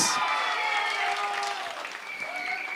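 Studio audience on a Hindi-language television morning show bursts into loud, sustained applause and cheering that fills the room at close range without a break, with voices mixed into the clapping.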